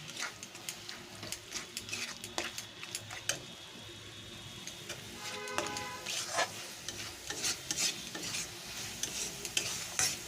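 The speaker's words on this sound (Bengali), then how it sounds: "ধনিয়া গুঁড়ো এক চামচ দিয়ে আমি ভালো করে লো টু মিডিয়াম হিটে ভালো করে ভেজে নেব মশলাটা" Masala with coriander powder fries over low to medium heat for prawn curry, soft sizzling under repeated scraping and stirring of a spatula against the pan, fairly quiet and close, with no voices.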